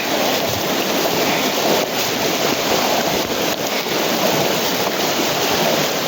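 Floodwater rushes after heavy rain in Umej village, Una taluka, with swollen rivers and streams overflowing; a loud, steady, close broadband roar of churning water runs unbroken throughout.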